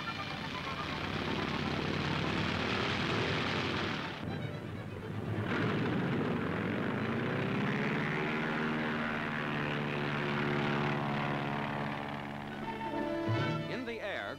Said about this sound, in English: Another pilotless airplane, full size, is demonstrated by the Navy. Radio controls on the ground direct the takeoff.